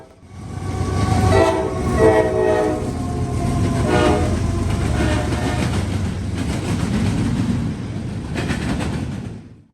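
A heavy intermodal freight train rumbles steadily past a station at close range, wheels clattering over the rails with a horn sounding early on, fading as it moves away.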